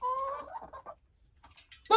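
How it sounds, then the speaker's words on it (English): A hen clucks a few times up close, then a short pause before another quick cluck and a higher squawk. "Chickens clucking."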